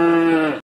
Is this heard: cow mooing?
yes